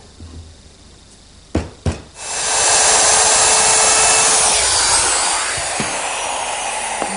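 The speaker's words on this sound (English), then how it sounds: "With my dado, I can easily form that tenon that fits into the cleat." A table-saw dado blade cuts a wooden tenon for a Queen Anne table: two sharp knocks, then a loud steady whining roar as the blade runs and bites through the wood, easing slightly near the end.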